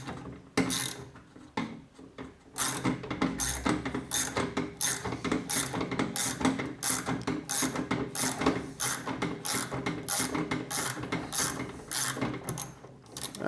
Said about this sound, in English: I'm going to start pulling up on it using a wrench, and it should just pull off pretty easily.